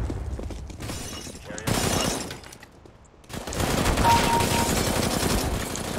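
Rapid bursts of automatic gunfire and shattering impacts from a first-person shooter game, loud and dense in several surges separated by a short lull, with a player's voice occasionally heard over the shooting.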